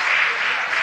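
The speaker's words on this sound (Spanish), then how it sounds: "Un gran aplauso" Audience applause at a city council meeting, a steady dense wash of clapping filling the whole moment at close, even loudness, with no voices over it.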